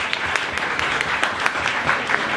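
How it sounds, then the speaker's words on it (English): Audience applause at a community event in Everton Park, a steady dense clatter of many hands clapping throughout, fairly close and continuous with no talk over it. "So I'd like to round of applause for Simon and Oliver."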